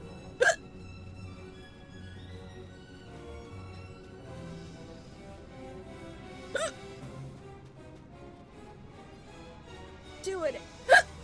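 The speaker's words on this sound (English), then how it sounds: "I could hold the hiccups." Three sharp hiccups from a person, one near the start, one in the middle and a final pair at the end, separated by quiet background music from the Final Fantasy XII The Zodiac Age game.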